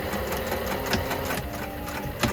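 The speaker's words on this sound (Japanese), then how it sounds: "で端っこミシンね、" A sewing machine runs a continuous stitching seam along the edge of a coat's fabric, a steady mechanical whirring with rhythmic needle clatter, close and without talk.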